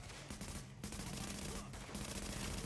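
Sustained, heavy gunfire from a firefight in The Division game, dense overlapping bursts of shots running continuously at close range with no pauses.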